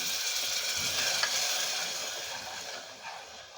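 A masala curry for a Bhogi vegetable dish sizzles in a pan as water is added and it is stirred, giving a steady frying hiss with soft scraping that fades slightly toward the end.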